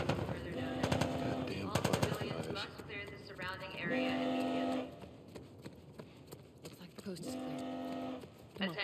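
Bursts of machine-gun fire during a firefight against Fireflies in The Last of Us Part I on PS5, loud rattling volleys alternating with shouted character dialogue and game effects.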